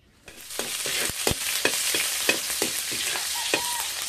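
Meat and other ingredients sautéing in hot cooking oil for a mung bean breakfast dish, giving a steady close sizzle with repeated sharp scraping and stirring clatters from a utensil against the pan, no voices.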